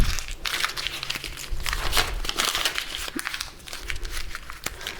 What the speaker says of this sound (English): you have brown paper bags, and I'm going to crumple both of them.